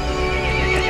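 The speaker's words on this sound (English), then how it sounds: "The horse grew angry and summoned the other monsters." A horse whinnies loudly and steadily for about a second in a video game, a bright, wavering neigh with no other sounds around it.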